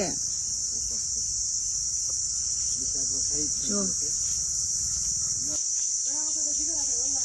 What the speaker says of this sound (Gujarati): જો તમરાનો અવાજ કેવો આવે છે?